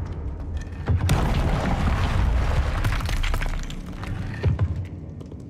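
In Hogwarts Legacy, a Confringo explosive spell goes off with a sudden blast, then a sustained rumbling, crashing burst with debris-like cracks that tails off, followed by a smaller thud near the end.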